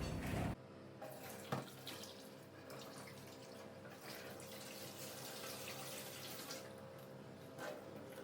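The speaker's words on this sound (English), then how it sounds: "Cold water running through." Cold tap water running over freshly cooked pasta for aglio olio, a steady close splashing stream that starts with a sharp burst and keeps flowing evenly, with no voices.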